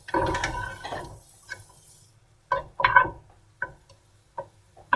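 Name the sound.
dryad's saddle mushrooms added to pan with butter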